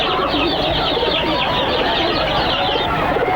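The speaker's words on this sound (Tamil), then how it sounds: "அந்த லவ் பேர்ட்ஸ் எடுத்து கொடு" Lovebirds cooing and chattering in a busy market-like setting, a steady dense layer of bird calls with cluck-like notes throughout, no talk over it.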